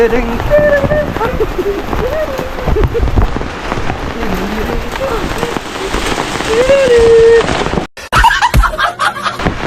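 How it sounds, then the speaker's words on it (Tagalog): Wind-driven rain patters and rushes steadily on a surface while people talk and laugh nearby, then the sound cuts out briefly near the end. "Umahangin siya. Ulan, mahangin pala."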